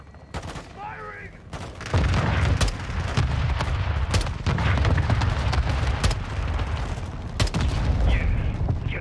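Heavy gunfire in the video game Call of Duty Modern Warfare 2: repeated sharp blasts and sustained bursts with booming impacts, loud and dense for several seconds after a quieter start, with a brief voice near the beginning.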